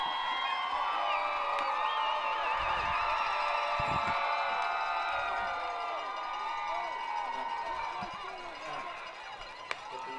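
A large crowd cheers, whoops and shouts at a youth football championship, 7th grade Madison vs. Southington, in a sustained bright roar that fades slightly toward the end, with some voices calling over it.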